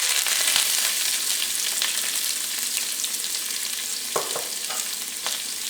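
Curry leaves and sliced onion sizzle steadily in hot coconut oil with dried chillies, a continuous close frying hiss with a few sharper crackles and spatters near the end, no voices.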